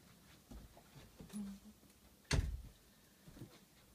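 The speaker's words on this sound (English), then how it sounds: "let me just close the door, hang on." A single solid door thud lands mid-clip, short and fairly close, with a brief lighter knock just before it and a quiet room around.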